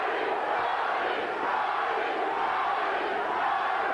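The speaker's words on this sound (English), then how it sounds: "Crowd chanting, Gatti, Gatti, Gatti." A boxing arena crowd at the Arturo Gatti versus Wilson Rodriguez fight chants Gatti's name, a steady roaring wall of many voices swelling together with no single voice standing out.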